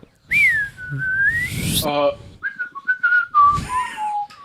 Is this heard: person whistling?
yes